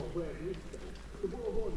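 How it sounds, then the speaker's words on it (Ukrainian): Soft pigeon coos repeat close by in Truskavets, mixed with low background murmur and faint outdoor noise. "Бачимо голубів багато"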